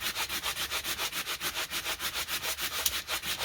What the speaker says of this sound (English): Just sand it back.